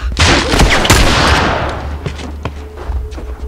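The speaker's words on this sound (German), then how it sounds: "Jeder Schuss muss sitzen" A rapid burst of gunfire in the video game The Last of Us opens loudly, followed by scattered single shots and thuds trailing off.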